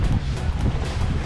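Wind buffets the microphone at the top of the Snowbasin ski resort in Utah during snowfall, a loud, gusty low rumble filling the short stretch with no talking.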